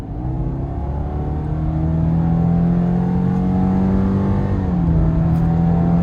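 A 2021 Subaru Forester Premium's boxer engine accelerates steadily with a CVT that simulates gear changes, giving a continuous loud droning hum whose pitch climbs and then drops back near the end as a shift is mimicked.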